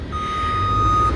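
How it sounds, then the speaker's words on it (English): A construction truck backing up near an excavator on a site, sending out a single steady reversing beep tone over low engine rumble, close and fairly loud. "Excuse the beeping. There's construction taking place right"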